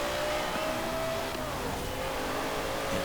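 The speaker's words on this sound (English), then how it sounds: "Only the LFA sounds as unique in terms of V10 engines like" A V10 supercar engine in Forza Horizon 4 howls continuously at full throttle, its pitch holding steady with a thick, buzzing roar and no pauses.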